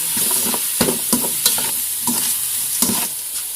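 Trapped field rat meat is stir-fried in a pan, with a steady loud sizzle broken by repeated scraping strokes of the spatula in an uneven rhythm, and no one speaking.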